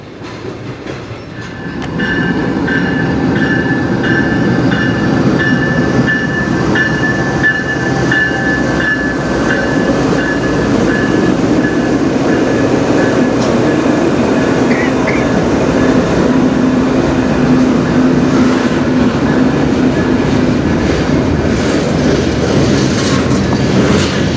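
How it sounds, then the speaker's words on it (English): A sizable yard train rolls past on the Strathroy Subdivision in a steady, loud, continuous rumble with rail clatter and a faint wheel squeal, sustained throughout with no talk. "That's a pretty decent sized yard train."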